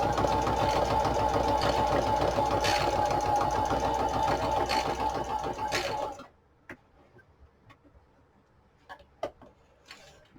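Singer Fashion Mate sewing machine stitching a wide zigzag on two layers of cardstock, a loud steady mechanical whir for six seconds that stops, followed by quiet clicks and handling.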